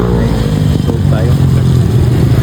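Motorcycle engines running and revving while riding through flood water after days of rain, loud and continuous, with people talking and shouting over the engine noise.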